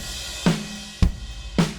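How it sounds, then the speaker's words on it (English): Unmixed studio drum kit recorded through close microphones, with three separate punchy hits roughly half a second apart, each a sharp attack with a short ringing low body, heard alone and fairly loud. "the drums that I or anybody record into the computer generally sound like this."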